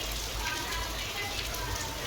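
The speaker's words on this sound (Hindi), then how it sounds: "ये देखिए इधर भी बारिश देखिए कितनी तेज़ की हो रही है" Heavy rain pours steadily in a dense, unbroken hiss, close and fairly loud, with no pauses across the stretch.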